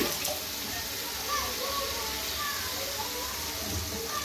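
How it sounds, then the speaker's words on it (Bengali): A small amount of water runs steadily into a cooking pot of pointed gourd and liver. The even splashing pour lasts throughout with faint background sounds. "অল্প একটু পানি দেই।"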